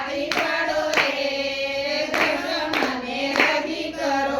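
Steady two-handed clapping keeps time in a Gujarati devotional song to Dashama, with sharp claps spaced roughly every half second over continuous sung music.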